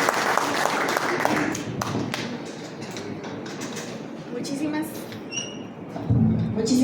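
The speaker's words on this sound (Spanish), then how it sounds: "Un aplauso para él, por favor." Audience applause at a commemorative event, a broad patter of clapping that thins and swells unevenly, with faint voices and a closer thump near the end.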